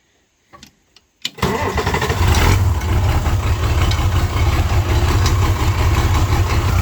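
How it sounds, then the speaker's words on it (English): A tractor engine cranks and catches after a few faint clicks, then settles into a loud, steady idle that rumbles on alone close by. "Let's get on this tractor and head on down the woods."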